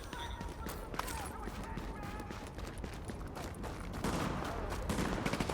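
Express Shotgun fire in a multiplayer shooter game sounds as repeated sharp blasts and clattering action over a busy, dense game mix, with players talking throughout.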